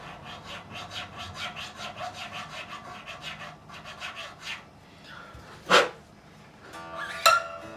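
Repeated rhythmic rasping strokes of a file cutting a nut slot on a Telecaster guitar, faint and close, followed by a couple of sharper scrapes or taps.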